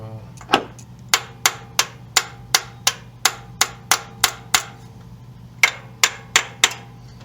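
Sharp metallic strikes of a ratchet and screwdriver hitting a stuck fuel pressure regulator on a 1995 Chevrolet Silverado, in a steady rapid series, about a dozen blows, a short pause, then a few more hits, close and loud.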